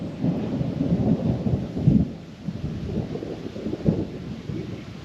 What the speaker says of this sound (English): the only action is the thunder happening in the distance